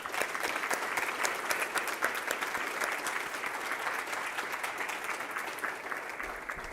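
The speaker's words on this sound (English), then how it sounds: "let's give another big round of applause" Audience applause for students and their families, a broad continuous roar of many hands clapping from a sizeable crowd, heard from some distance and holding steady throughout.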